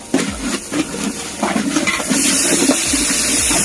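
Water being poured into a pot while dum biryani is prepared, a steady splashing pour that grows fuller and louder toward the end, heard up close with no talking.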